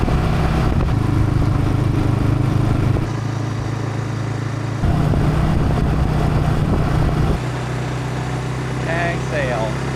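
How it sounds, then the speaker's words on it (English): RPS Cruiser 250 and RPS Cruiser 300 motorcycles riding together on roads near Crystal River, a continuous engine drone whose pitch steps up and down with gear changes, plus wind noise and a brief chirp near the end. "I'm on the RPS 250 Cruiser. Chewy rides on the RPS 300 Cruiser."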